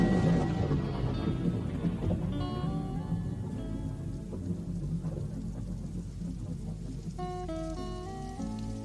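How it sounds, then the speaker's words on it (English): Steady rain patters on surfaces during a summer thunderstorm, with low rumbling thunder rolling underneath and a few bright tonal sounds near the end. "When I hear a summer thunderstorm"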